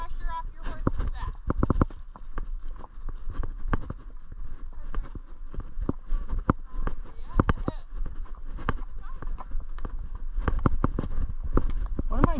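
A horse steps along a steep Montana trail with irregular hoof clip-clops, close and fairly loud, while a rider talks over the steps throughout.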